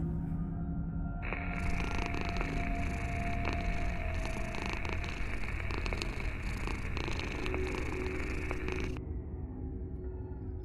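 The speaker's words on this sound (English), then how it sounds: "Sounds like a cat purring" A cat purrs, a steady, continuous low rumble under a brighter sustained hum that cuts in and out, fairly quiet and uninterrupted with no talk.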